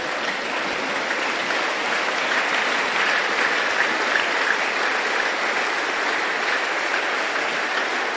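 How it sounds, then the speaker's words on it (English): A church congregation at a Sunday service claps for Jesus, sustained dense applause from many hands, loud and even for about eight seconds with no talk over it. "Let's be seated and clap for Jesus."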